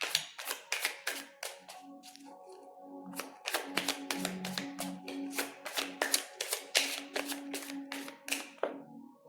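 Tarot cards are drawn and shuffled close by, a quick run of crisp, papery snaps and flicks coming in fast bursts, with no talking.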